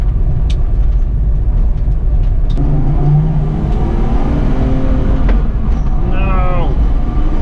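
Rattles and buzzing trim inside a weight-reduced car while driving, a steady loud cabin drone with engine hum held near 5,500 rpm underneath and a few short squeaks and clunks.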